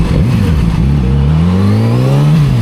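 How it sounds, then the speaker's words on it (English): A Nissan 370Z with a muffler delete revs loudly close by, its raw exhaust note rising steadily in pitch through a long pull and then briefly easing off at the end. "Believe it or not, it's just a muffler delete."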